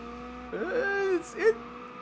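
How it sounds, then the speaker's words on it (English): A car spinning donuts in the BeamNG.drive driving game, a steady engine drone with a rising, whining pitch and brief tire-squeal bursts, while someone talks over it. "Let's see if I can actually do donuts in this."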